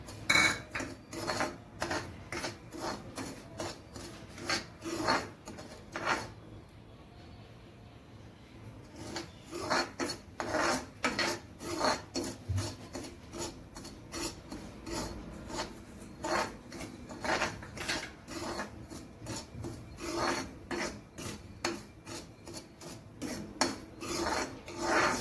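Semolina (rava) scraping and rasping against a pan as it is stirred and roasted over low heat, a steady run of close, repeated strokes that pause briefly before resuming.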